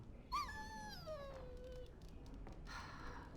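A dog whines in Dragon Age Origins, one long descending whimper that rises then slides down, followed by a softer whine, close and alone over faint background hiss.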